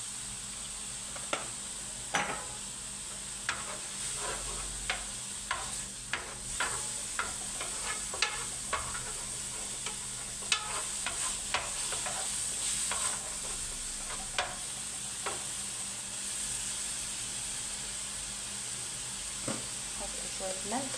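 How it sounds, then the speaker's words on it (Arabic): Small onion frying in a little oil in a pan for Egyptian eggplant moussaka, giving a steady low sizzle under repeated sharp clinks and scrapes of stirring. "جبت بصله بقى يعني مش كبيره قوي، وهحمرها بقى كده كلها شوية زيت بسيطين"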